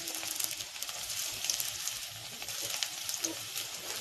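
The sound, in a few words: onion frying in hot oil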